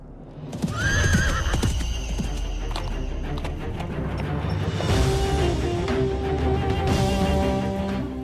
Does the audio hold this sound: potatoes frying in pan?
no